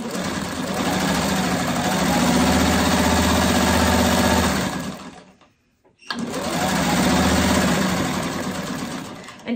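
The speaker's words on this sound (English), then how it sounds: "once we get it sewed on" A sewing machine stitching fabric runs in a steady, loud, fast whirring buzz for about five seconds, cuts out briefly, then starts again with the same even rhythm.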